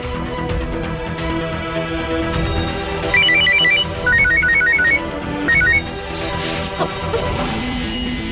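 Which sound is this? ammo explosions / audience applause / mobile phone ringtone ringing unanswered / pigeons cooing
mobile phone ringtone ringing unanswered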